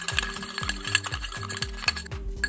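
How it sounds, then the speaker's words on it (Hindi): A spoon stirs a homemade whitening cream mixture in a bowl, producing a quick, regular rhythm of scraping swirls and light clinks up close, with no voice. "अब आपने इसको इतना मिक्स करना है कि क्रीमी फॉर्म में आ गए"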